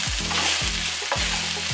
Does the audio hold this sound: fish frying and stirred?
yes